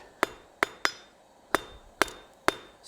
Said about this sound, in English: Let's go to the anvil, Jess. Speaking of dancing a hammer around.